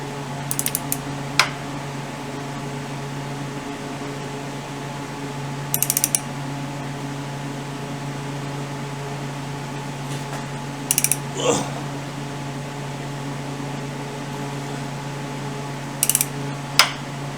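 A torque wrench ratchets in short clicking bursts at several moments while tightening a bolt on a BM Enfield 350 trials motorcycle, against a steady low mechanical hum in a workshop.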